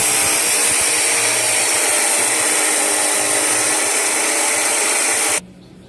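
A power drill whirs steadily and loudly for about five seconds, freehand drilling holes in a shop-scrap piston ring filer, then cuts off abruptly into near silence.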